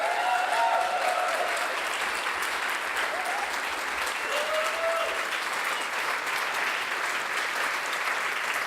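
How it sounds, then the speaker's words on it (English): Conference audience applauding the event's head organizers as they come on stage, a steady, dense wash of clapping that holds evenly throughout without pause. "Please come on stage. That's your applause."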